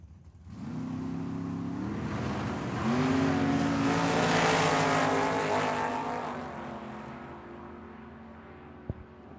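A Nissan import and a dragster launch down the Tucson Dragway strip, engines roaring loud with rising pitched harmonics as they accelerate, peaking midway before fading, with a sharp click near the end.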